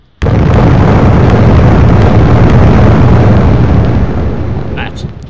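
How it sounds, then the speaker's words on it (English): A mega ice cube bursts with a sudden loud boom, then a dense, roaring blast of noise holds for about five seconds before slowly easing off. "explosions will come"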